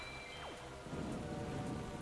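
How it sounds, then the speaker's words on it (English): Rain and thunder in the video game The Legend of Zelda: The Wind Waker HD: a steady hiss of rainfall, then a deep rolling rumble of thunder rises partway through and carries on beneath the downpour. "I love how the lightning and rain look in this game."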